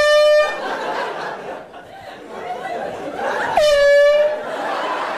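A loud car horn blares twice, a long tonal honk at the start and another near the end, over a bed of crowd chatter and laughter.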